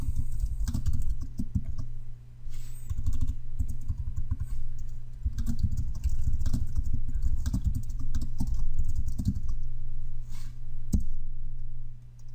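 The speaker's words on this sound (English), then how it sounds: "And I'm going to just type something in here." Typing on a computer keyboard close up, a quick patter of key clicks in bursts with short pauses, alone in a quiet room.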